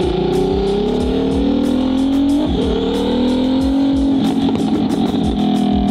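A Ferrari's engine roars loudly and close, revving hard and climbing through rising pitch as the car accelerates away from a green light, with a rough, still-cold snarl and no talking.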